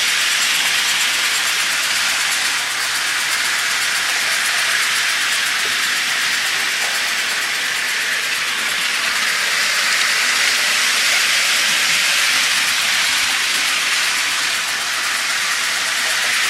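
Model trains circle a Christmas tree, giving a steady, bright hissing rush with a faint rolling rumble that holds at a constant level, with no speech.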